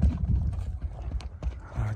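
A horse's hooves clip-clop in a quick run at a horse sale outdoors, fairly close, with faint background noise and no talk.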